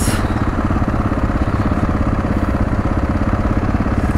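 Dual sport KTM motorcycle engines, a loud close, steady pulsing engine drone with no pauses, recorded while riding out near Death Valley.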